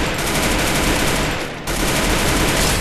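Rapid automatic gunfire from a Garena Free Fire match rattles on almost without pause, loud and dense, with one brief dip in the middle before the shooting resumes.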